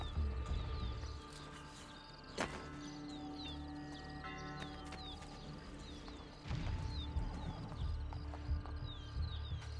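Rhythmic hoof clip-clop from a horse runs throughout, steady and moderately loud, with a couple of sharper impacts and background game sounds.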